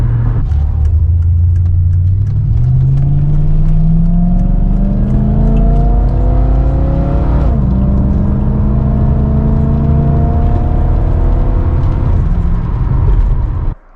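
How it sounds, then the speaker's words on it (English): A loud Mercedes V8 with baffled exhaust revs up steadily, its deep drone climbing in pitch over several seconds, dipping briefly, then climbing again before cutting off abruptly at the end; no voices. "This is just a loud engine"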